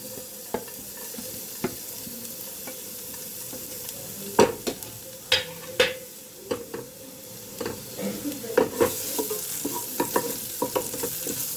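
Garlic sizzles in olive oil in a kadai, a steady frying hiss with sharp scraping stirs and clinks of a utensil against the pan, close and moderately loud, with no voices.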